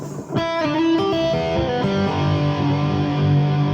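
Distorted electric guitar playing a solo run from a song without muting, so the open strings keep ringing and pile up into a dense, smeared chord-like wash, loud and continuous with no talking.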